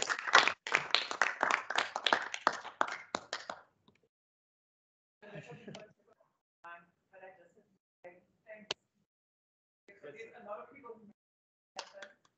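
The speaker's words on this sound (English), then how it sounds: "I think a round of applause is in order." Audience at the close of a symposium claps in a burst of dense, fairly loud applause for about three and a half seconds, then falls silent, followed by a few scattered, quieter bursts of sound.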